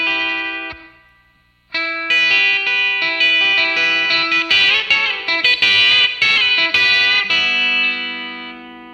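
Electric guitar plays a lead solo line with effects and light distortion: a single sustained note fades out, then a quick run of picked notes follows, loud and clear with no voices.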